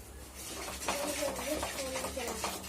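Ingredients fry in hot oil on a high flame for an egg curry while a utensil scrapes and stirs the pan, soft sizzling under steady clinks, with a faint voice in the background.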